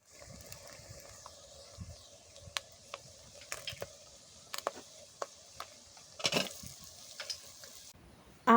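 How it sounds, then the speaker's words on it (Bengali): Shrimp and chilies stir-fry in oil for a greens and dal dish, a quiet sizzle broken by repeated sharp scrapes and clatters of a spatula in the pan. "তেল, চিংড়ি মাছ, মরিচ দিয়ে কষিয়ে নিলাম।"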